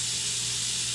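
Toast frying in a pan gives a steady, even sizzling hiss, close and fairly loud, holding level for a second with no voices.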